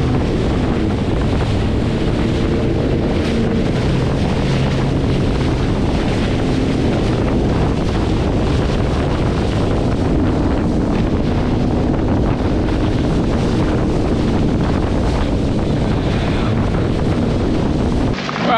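Wind and choppy waves on Lake Erie heard from aboard a boat, a loud steady roar of wind buffeting the microphone over constant sloshing water, with no voices.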